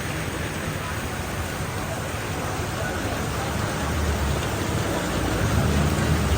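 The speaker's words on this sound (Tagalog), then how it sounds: "Ang lakas pa ng ulan." Heavy rain pours down in Manila, a dense, steady hiss of water that grows slightly louder toward the end, with no pauses.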